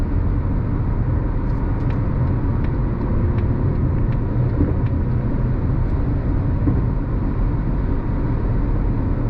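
A 2023 Mazda CX-50 Meridian Edition cruises down a highway, with steady road and tire rumble and a broad wind hiss inside the cabin, plus a few faint ticks, continuous and moderately loud.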